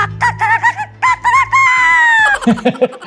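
Loud, close chicken sounds: a series of short clucks and squawks, then a drawn-out rooster-like crow, followed by more choppy clucking.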